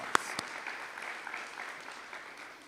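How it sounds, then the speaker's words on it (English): Audience applause for a state delegation at a middle school ribbon cutting ceremony, a short, soft patter of clapping that sounds distant. "So give you all a round of applause."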